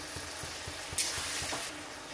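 Spice paste sizzles in a pan with chopped tomato and ginger-garlic paste for a spicy eel curry, a steady frying hiss broken by regular scraping stir strokes and a brief louder splash midway.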